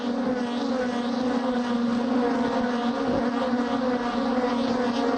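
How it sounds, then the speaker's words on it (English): Star Mazda race cars at Mosport, their Mazda engines droning loudly and continuously as they accelerate through the turn 5 complex onto the long uphill straightaway. "Getting everything they can out of these Mazda engines through here"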